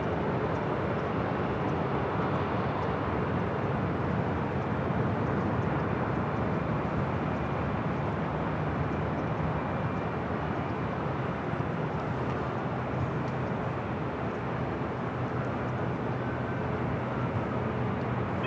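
A Turkish Airlines A350-900 heading to Istanbul rolls for takeoff on the north side at LAX, a broad, steady jet engine roar held at an even level, heard from a distance.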